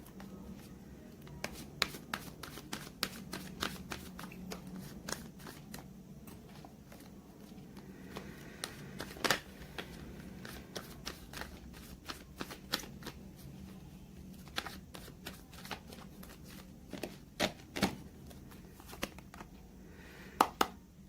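Tarot cards being shuffled and drawn from a deck, with soft, close riffling, sliding and tapping that come in scattered bursts over a quiet background, no voices.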